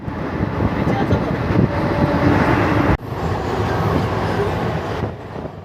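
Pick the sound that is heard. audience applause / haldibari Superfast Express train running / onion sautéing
haldibari Superfast Express train running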